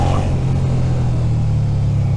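A Suzuki SV650 motorcycle's engine pulls hard and loud up close, a deep, throbbing twin-cylinder rumble building steadily with wind noise rushing over it.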